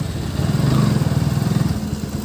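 Three motorcycles idle nearby at a stop before a group Sunday ride, giving a steady, throbbing low rumble with no voices over it.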